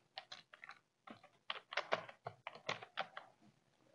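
Keys tapped on a computer keyboard while entering text into a Canva design, heard as close, irregular bursts of clicks with short pauses between words, and no voices.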